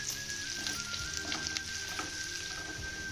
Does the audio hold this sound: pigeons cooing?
no